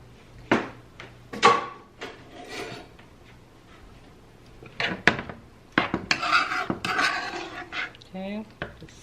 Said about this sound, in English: Okay, just stir that all around.